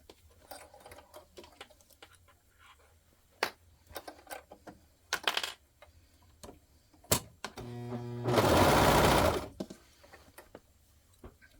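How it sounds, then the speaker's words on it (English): A sewing machine stitches across the seams of a pair of boxers, scattered light ticks and clicks building to one loud, steady burst of fast stitching lasting about a second, up close. "And then we're going to sew across that."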